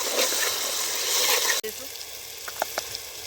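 Tomatoes frying in a little oil for Gujarati green toor dal, a loud steady hiss and sizzle that cuts off abruptly partway, followed by quieter crackles and a few sharp pops.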